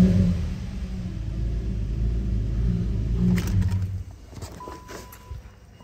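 A 2011 Subaru Legacy 3.6 liter automatic with 67,000 miles idling, a steady low engine hum up close that drops away near the end, leaving faint clicks and handling noise.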